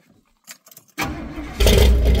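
A truck engine with side exhaust cranks and catches after a few faint clicks, then settles into a steady, loud running rumble close by.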